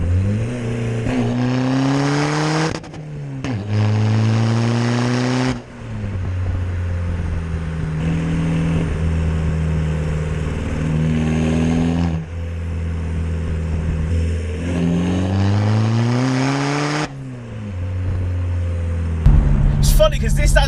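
A Skoda Fabia vRS hybrid turbo diesel hatchback, about 240 bhp, heard from inside as it drives and accelerates hard through the gears, the engine note rising and dropping at each shift, steady and loud throughout, with someone talking over it.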